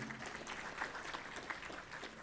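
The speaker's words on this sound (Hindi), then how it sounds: "तालियां बजाकर इनका भी स्वागत करें।" Faint applause from the audience at a student parliament event in Ahmedabad, steady scattered clapping at a distance for a couple of seconds, no voices standing out.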